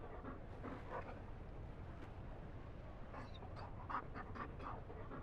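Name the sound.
Mabari dog panting in video game Dragon Age: Inquisition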